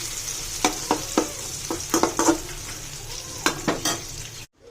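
Onion sizzles steadily in hot oil in a pan, with a spoon or spatula scraping and clacking against the metal in irregular strokes. The frying stays close and is heard on its own, with no voices.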